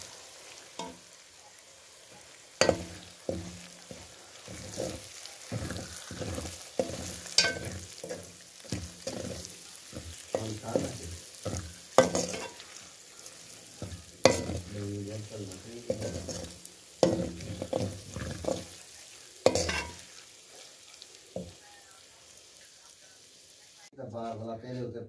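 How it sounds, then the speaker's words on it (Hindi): Egg is stirred into okra and green onion frying in a pan. A soft sizzle runs beneath frequent scraping strokes and taps of a spoon against the pan, while someone talks through much of it. "मैंने हरी प्याज और भिंडी जो है उसको फ्राई कर रही हूँ मैं। अभी मैंने एग डाल दिया है"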